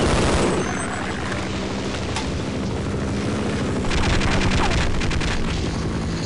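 Gunfire aimed at the player in the video game Half-Life: loud, dense bursts of rapid shots and booms over a steady rumble, with a clattering volley near the end and no speech.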